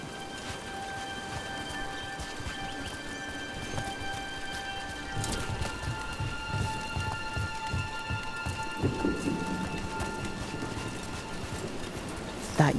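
Steady rainfall in the video game Dragon Age: The Veilguard, a soft constant patter under game ambience with occasional clopping footsteps and a brief voice near the end.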